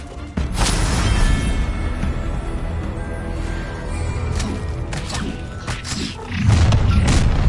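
Confringo blasting spell from a video game, a heavy booming rumble that carries through the clip with whooshing bursts and crashes, ending in a louder thudding blast, with no voices over it.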